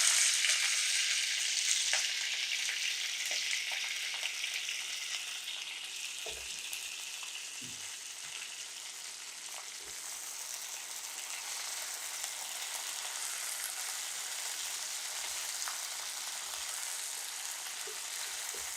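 Yard long beans fry in hot oil in a pan, making a continuous close sizzle throughout with occasional soft taps and stirring sounds.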